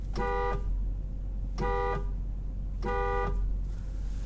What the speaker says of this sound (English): Let me give it a couple of honks.